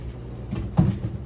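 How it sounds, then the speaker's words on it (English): An interior door pushed shut at home, a soft thud landing around the middle of the clip over quiet low room noise, fairly close and brief. "I shut this door so"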